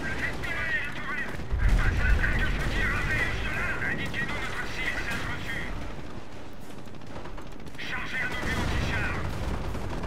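Gunfire in the World War II strategy game Company of Heroes, fought around Saint-Lô: bursts of rifle and machine-gun shots with heavy low thuds rattle on and off across the battlefield over ten seconds.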